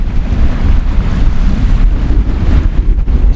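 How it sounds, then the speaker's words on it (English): Strong easterly wind buffets the microphone on Blackpool beach at low water, a steady, close, rumbling roar with gusty swells and surf mixed in, no voices. "I've got the wind, it's an easterly wind."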